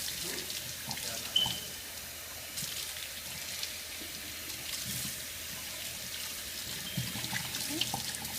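Tap water runs steadily into a sink while pork intestine casing is rinsed for Cambodian sausage, a constant soft hiss and splash with occasional louder splatters, fairly quiet and close.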